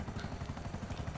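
A helicopter in the game GTA Online gives a steady, rapid rotor thump with engine drone throughout, loud and continuous with no talk.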